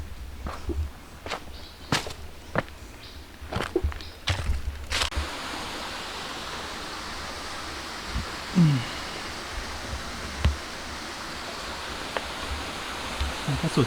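A waterfall on a forest nature trail gives a steady, distant rushing hiss, broken by sharp knocks and scuffs from someone walking along a stone-stepped path nearby.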